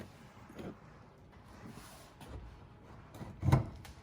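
A stuck Jeep Wrangler door is slid up off its hinges, making faint scrapes and light knocks that end in one sharp metallic clunk near the end, with no talk.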